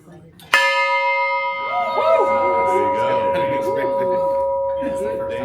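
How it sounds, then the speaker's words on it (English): A 150-year-old Bowie bell at a whiskey distillery is struck once, loud and close. Its deep, humming tone sustains for several seconds while people talk over the long ring. "It's a 150-year-old Bowie bell. And would you give it a good ring?"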